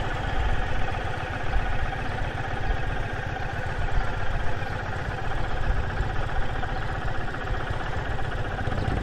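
A motorcycle engine runs steadily on Route 66 near Albuquerque and Grants, New Mexico, a continuous close, moderately loud drone with rumbling low end and wind noise, no talking over it.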